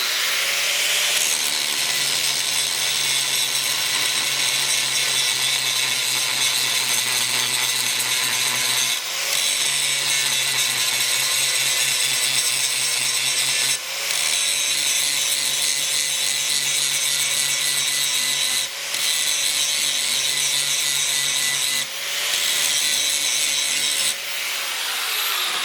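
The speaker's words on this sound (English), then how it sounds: "for speed I like to just use an angle grinder right now." An angle grinder works copper wire inlaid in steel, a loud, steady, close whine with grinding hiss that pauses briefly a few times and then resumes.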